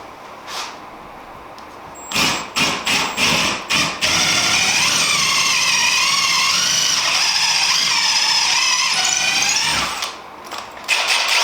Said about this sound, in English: we're doing a 1/4 inch pre-drill to help the fastener go in there